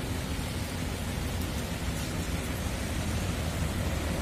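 Steady, dense hiss of light rain falling continuously, with no distinct drops or other sounds standing out.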